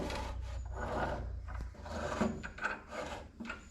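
A chop saw cuts a wood test piece, heard as a loud, rough grinding rasp in uneven surges with brief dips, close by and without talk.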